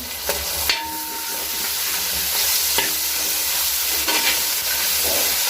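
Cooked mutton for Kayalpattinam-style biryani goes into a pot and sizzles with a steady hiss, broken by a few scraping stirs and clinks, close and alone without any voices.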